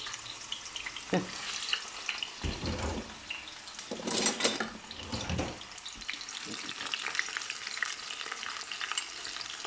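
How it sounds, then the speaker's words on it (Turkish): Zucchini sizzles and crackles steadily in a hot pan, with occasional louder bursts as pieces are stirred and a utensil scrapes. "şöyle kızartayım biraz kabak"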